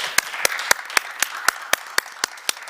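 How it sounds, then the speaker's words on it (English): Applause for student speakers at an online forum, sounding like a single person clapping in a steady, evenly spaced rhythm. The claps are fairly faint against a quiet room background. "Please, everyone, give a very warm round of applause to our student speakers for today."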